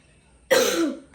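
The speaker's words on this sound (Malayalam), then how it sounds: "ചുമയുണ്ടല്ലോ" A single short, harsh cough, close and fairly loud, bursting out of near silence and fading within about half a second.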